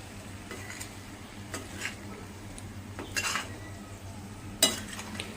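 Steamed potato sabzi being stirred in a pan, with a spoon scraping and clinking against the metal in scattered light strokes over a faint steady background hum.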